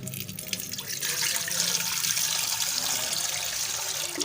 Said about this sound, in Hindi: ये हम इसमें अब पानी डालेंगे।